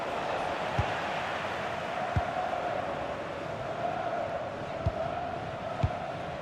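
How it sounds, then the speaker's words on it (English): A stadium crowd in FC 26 during Brazil vs Morocco, a broad, continuous roar of fans with several dull thumps rising above it. "the crowd is certainly trying to motivate the team to push them forward to get the equaliser"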